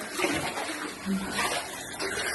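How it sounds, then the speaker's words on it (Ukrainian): Floodwater running and splashing inside a house in Chernivtsi after heavy summer rain, a close, uneven watery rush with a voice speaking over it. "На кухню везде вода."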